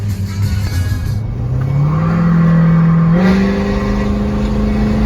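A loud Ford 6.7 diesel truck engine with a 5-inch stainless straight pipe exhaust revs up with a rising roar, holds a heavy droning pitch, then climbs again, close and sustained throughout.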